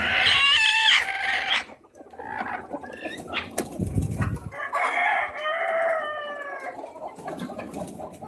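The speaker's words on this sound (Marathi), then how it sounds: "इकडे खूप कोंबड्या बसलेल्या आहेत" Free-range country chickens cluck and squawk close by, with a rooster-like crow near the start and a brief thump midway; no talking.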